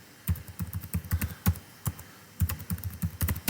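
A password is typed on a computer keyboard: quick close key clicks in two rapid bursts separated by a short pause, with no voice.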